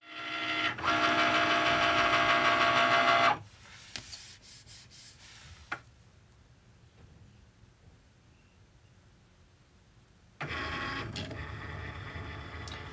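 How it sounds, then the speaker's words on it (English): A Cricut cutting machine runs a drawing pass with no pen loaded, a loud steady mechanical whir that stops, leaves a few soft clicks and quiet, then starts up again near the end. "So now the machine thinks it's drawing. It thinks there's a pen in Tool A, but there's really not."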